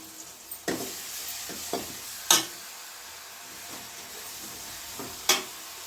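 Ground onion paste frying in a pan for a Chettinad-style chickpea curry: a steady low sizzle with a few sharp spits and stirring scrapes at intervals, close and moderately quiet, no talking.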